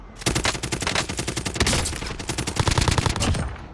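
Automatic gunfire in Call of Duty: Modern Warfare Warzone, rapid rattling bursts of machine-gun shots firing in quick steady rhythm, loud and close, with a brief pause midway.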